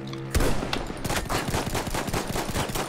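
Pistol gunfire in Battlefield 1, a loud sudden shot followed by a rapid run of sharp, repeated shots in a dense, steady rhythm with no talking.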